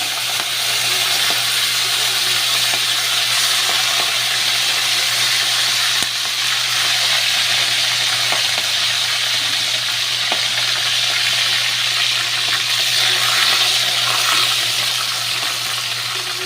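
Prawns hiss and sizzle steadily in a hot pan with burnt mustard, a loud, continuous frying crackle with faint stirring scrapes, heard up close and with no talking.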